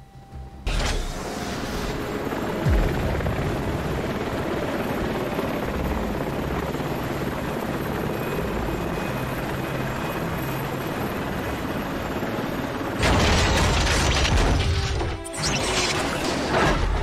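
Helicopter in the Transformers Revenge of the Fallen video game, a loud, continuous rotor roar that holds steady, then swells louder near the end alongside a few sharp impact sounds.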